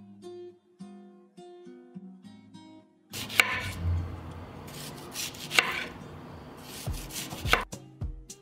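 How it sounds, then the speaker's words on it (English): A knife cuts an onion into rings on a board, giving a few seconds of firm, close chopping thuds and scraping, with soft music playing beforehand and no speech. "I will cut 1 onion into rings."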